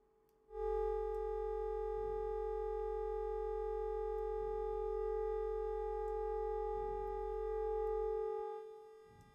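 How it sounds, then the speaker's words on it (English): A synthesized bass note rings out steady and pure with a bright, glassy harmonic shimmer, sustained for about eight seconds under reverb, with soft muffled pulses recurring beneath it before it cuts off. "So it's more of an under ice sound."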